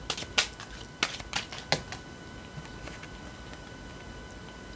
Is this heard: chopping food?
no